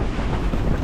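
Strong gusts of wind from a tropical storm buffet a sailboat lying at anchor in Carriacou, a steady loud roar that fills the moment with no voices over it.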